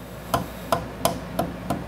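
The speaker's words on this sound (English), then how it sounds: "I'm gonna come in here and insert that wedge down into that little gap I'll take me a hammer" A hammer drives a glued wooden wedge into the gap of a hand-cut dovetail joint, five sharp, evenly spaced knocks, close and loud, with no talking.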